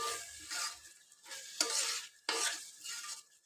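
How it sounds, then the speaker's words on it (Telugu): Masala for egg biryani fries in a pan while a spoon scrapes and stirs it in repeated strokes. The soft sizzle comes close up and fairly quiet, and no one speaks. "కొంచెం సేపు ఈ మసాలా అనేది వేపుకోవాలి"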